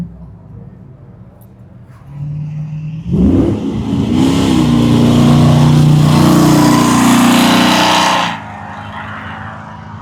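A BMW M3 engine revs loudly at a car show. It rises sharply after a quieter idle, holds a strong, throaty roar for several seconds, then drops back to a low background rumble.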